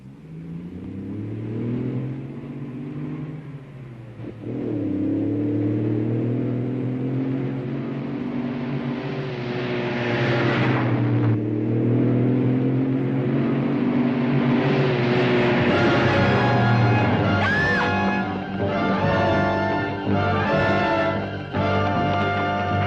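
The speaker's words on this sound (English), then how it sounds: "Bring on the truck." A stunt truck drives in on a film set, its engine building from a low rumble into sustained loud revving that rises and falls over about twenty seconds, with no talking.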